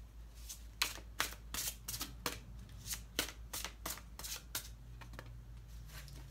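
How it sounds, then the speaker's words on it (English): Cards are shuffled repeatedly in quick riffling bursts, crisp and close, with short pauses between each pass. "Shuffle, shuffle, shuffle."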